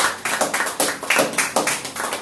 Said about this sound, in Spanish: Dale palmas de alabanza al Señor.